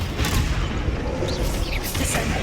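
The Confringo fire spell goes off in Hogwarts Legacy, producing loud, continuous blasting and rumbling explosions that fill the short clip with dense booming noise.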